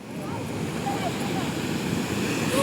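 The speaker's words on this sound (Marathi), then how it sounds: "जरा लाट आली एकदम तुफानवाली" Strong surf pounds Kunkeshwar beach in a continuous loud roar of breaking sea waves, with wind buffeting the microphone throughout.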